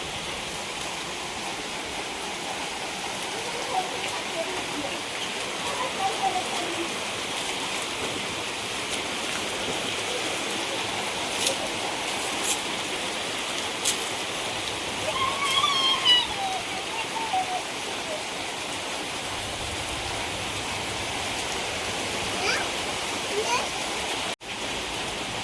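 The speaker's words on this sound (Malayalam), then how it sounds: "നല്ല മഴ." Heavy rain pours steadily outside a house in Kerala, a dense continuous hiss with occasional louder patters and splashes, without voices.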